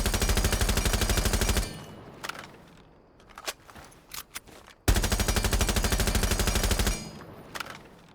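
Rainbow Six Siege gun fitted with a compensator fires two long full-auto bursts, each about two seconds of loud, rapid rhythmic shots, with a few scattered single shots and footsteps-like clicks between them.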